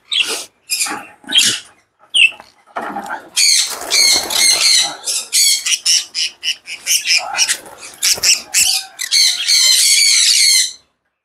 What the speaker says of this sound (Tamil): இதுதான் நம்மளோட ஹாலாண்ட் ஷோ பஜ்ஜீஸ்.